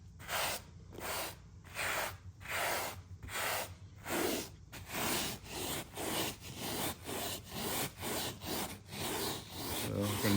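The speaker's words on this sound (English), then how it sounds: "we're gonna rub it in with this little bit of a brush" A small brush scrubs the seat of a neglected Ford Mustang GT being detailed, a close rhythmic back-and-forth rasping with about a dozen even strokes, alone.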